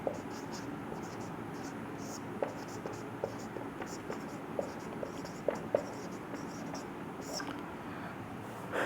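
During a lecture, marker or chalk strokes scratch across a board in a steady series of short taps and scrapes, close and moderately quiet, with faint whispery voice in the background.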